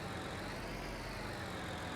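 A tractor engine in the Farming Simulator 19 video game, a steady, even droning rumble holding constant at moderate volume without change.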